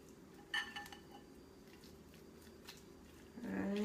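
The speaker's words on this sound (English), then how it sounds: "so then I can stir it all together" Riced cauliflower seasoned with pink Himalayan salt is stirred in a pan, giving a few soft scrapes and clinks against a faint background, then a louder rustling stir at the end.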